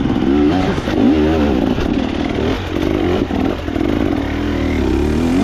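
A KTM off-road motorcycle on a trail ride at Akamas: the engine roars steadily close by, loud and continuous, with rising and falling revs and some mechanical clatter.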